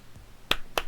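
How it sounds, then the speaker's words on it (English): Two sharp hand claps in the video game Arcade Spirits, a quiet short pause and then a second clap about a quarter second after the first, close and crisp against a faint background. "claps twice, calling the room to attention."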